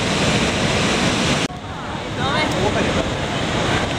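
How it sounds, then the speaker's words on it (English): The roaring water of Niagara Falls, a whole river pouring over a chasm, fills the air with a dense, loud, continuous rush, steady apart from a brief dip, with no one talking. "It's just roaring. I mean, it's a whole river just dumping right over a chasm."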